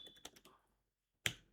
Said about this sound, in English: while configuring you just need to type AWS configure